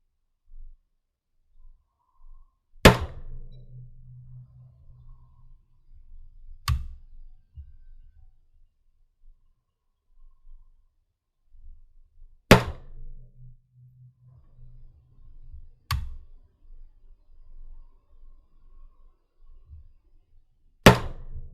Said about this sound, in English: I shot 5 rounds to confirm my zero